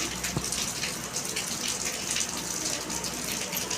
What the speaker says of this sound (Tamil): எங்கள் ஊரில் மழை பெய்யுது, மழை பெய்யுது. சவுண்டு கேட்குதா?